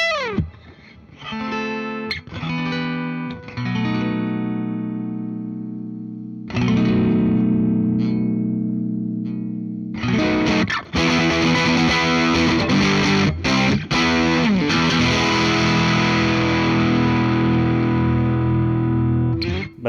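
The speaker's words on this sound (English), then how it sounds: "you wouldn't normally think piezo with a distortion pedal equals a good time" A 2009 Moog E1 electric guitar played through its piezo pickup into a distortion pedal gives loud, heavily distorted lead lines and sustained chords with chorus-like shimmer, held notes and sudden stops, with no talking.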